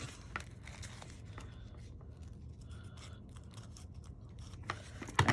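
Scissors cutting paper for a bookmark: soft, close snips and scraping, faint and intermittent over a quiet background hum, with a sharper clip near the end.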